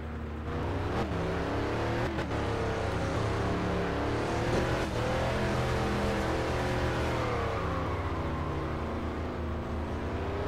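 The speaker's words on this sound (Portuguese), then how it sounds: "Queima a embreagem e chama no drift" Dodge Charger R/T engine in My Summer Car revving hard while drifting, a loud continuous roar that rises and falls with throttle changes and gear shifts, close and steady throughout.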